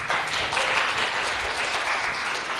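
An audience at a Linux and open-source conference talk applauds in a short, dense burst of clapping that stays steady throughout.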